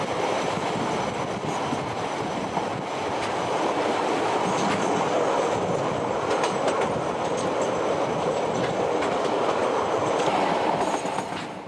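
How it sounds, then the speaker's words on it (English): A train rolls steadily along the rails with a continuous rumble and rhythmic clickety-clack, heard from on board a steam-hauled train descending toward Greymouth, New Zealand, loud and unbroken throughout. "Darkness closes in on the train as it races downward towards the river port of Greymouth"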